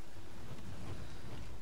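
Rain falls in the game Don't Starve Together as a dense, steady hiss with a low rumble underneath, constant and fairly faint throughout.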